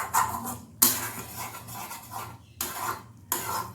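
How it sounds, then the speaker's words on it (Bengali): A spoon scrapes and rubs through a thick spice paste with poppy and melon seeds in a pan, made for a drumstick flower dish. The strokes come in repeated bursts separated by short pauses, close and without voices. "মশলাটাকে খুব ভালো করে নাড়াচাড়া করে এটাকে কন্টিনিউ নাড়াচাড়া করে একেবারে কষিয়ে নিতে হবে"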